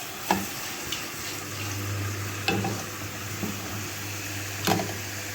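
Potatoes sautéing in a pan for stuffed potatoes with chicken give a steady low sizzle, broken by a few sharp clinks of stirring at a moderate distance, with no voices.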